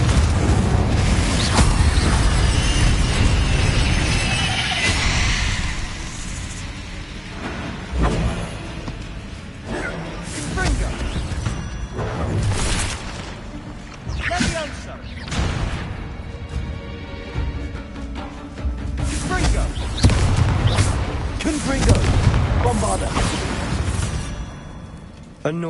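Video game Confringo spell blasts: repeated booming explosions with whooshing bursts and crashing impacts, spaced irregularly over a busy game soundscape with occasional voices.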